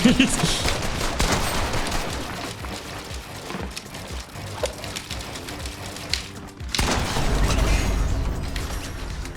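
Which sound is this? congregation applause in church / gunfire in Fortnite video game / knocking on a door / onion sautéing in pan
gunfire in Fortnite video game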